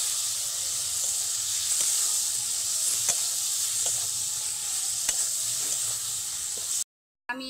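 Shrimp with cumin powder and other dry spices fries in a hot pan with a loud, close, hissing sizzle. Occasional clicks come from stirring, and the sound cuts out briefly near the end.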